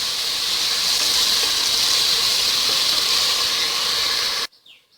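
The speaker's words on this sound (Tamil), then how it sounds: "இப்போது நான் எடுத்து வச்சுருக்கிறேன் இந்த இஞ்சி பூண்டு பேஸ்ட்டு சேர்த்துக்கிறேன். இது பச்சை வாசனை போகிற வரைக்கும் நல்லா வதக்கிக்கலாம்." Ginger garlic paste sizzles and sautés in a hot pan while biryani is being cooked, giving a steady, loud, close frying hiss that holds evenly for over four seconds and then cuts off abruptly.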